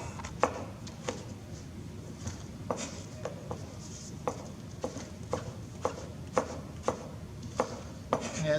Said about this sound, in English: as we get our vegetables cut